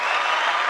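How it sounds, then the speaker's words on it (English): A short burst of dense recorded applause from a sound effect button, steady and loud throughout with no voices over it. "Applause there. That's the only button I have today."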